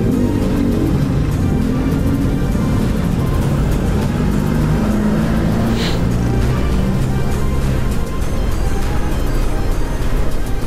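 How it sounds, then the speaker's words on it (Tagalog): Road traffic sounds from a motorcycle on a solo ride along the Marilaque highway near Infanta. There is a constant loud roar of engine and wind with vehicles rumbling around, and a passing whine stands out midway. "Traffic na."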